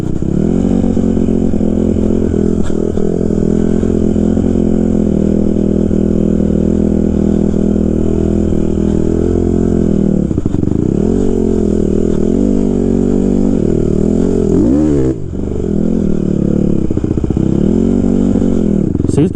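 A 2014 Honda CRF 150R dirt bike engine runs at a high idle close by, a loud, steady buzzing drone with a few brief dips and wavers in pitch.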